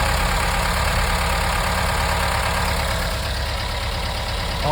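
A 1983 VW T3 Vanagon's engine runs steadily after being reinstalled, a loud, continuous low idle with a faint knocking texture and no talk.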